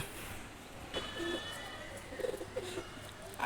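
Soft pigeon coos, a few low murmuring calls spaced apart, fairly faint against a quiet background hiss.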